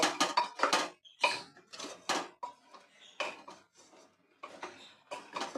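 Lote shak stalks with pumpkin and potato being stirred in a pot: a close, uneven series of metallic scrapes and clattering spoon strokes in bursts, with brief quiet gaps, no talking.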